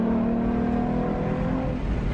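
A Ford Mustang GT350 built to around 800 wheel horsepower pulls hard, its engine roaring loud and steady with a rising, layered tone close by and no one talking.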